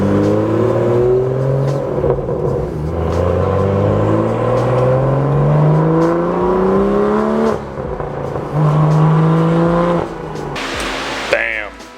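A BMW M2 accelerating hard with the engine revving up through rising pitches and gear shifts, loud and close as if heard from inside the car, ending with a brief sharp burst.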